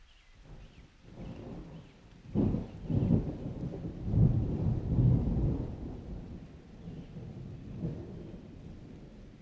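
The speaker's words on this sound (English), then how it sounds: "It's getting darker, rain's coming in." Deep rolling thunder rumbles through a stormy day, with rain falling steadily around it, the rumbles swelling in loud waves and then fading back.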